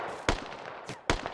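Gunfire in a military video game, two sharp loud shots about a second apart, with a fainter report between them over steady background noise.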